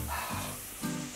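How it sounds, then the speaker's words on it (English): A pot of water boils for pasta while shallots cook nearby, giving a continuous close bubbling and sizzling hiss with no voices. "The water is boiling."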